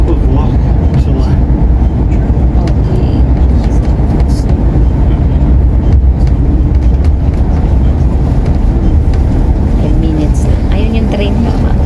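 Passenger train running through the Scottish Highlands near Loch Tulla, a steady low rumble and rolling rail noise that holds constant throughout with faint voices in the background.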